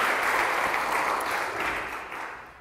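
Crowd applause with some cheering fills the room at a charity gathering, loud and dense at first, then gradually thinning and fading over a few seconds.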